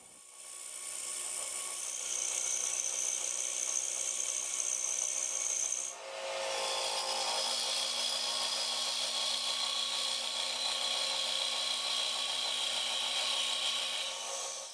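An Easy Wood Tools rougher cuts into a wooden bowl spinning on a lathe, a continuous rasping scrape that breaks off briefly midway and then resumes just as steadily while the rim is shaped.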